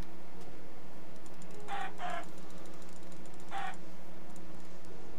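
Chicken clucks in the Minecraft Feed The Beast modpack: three short clucks, two close together then one more, over a steady background hum of game ambience.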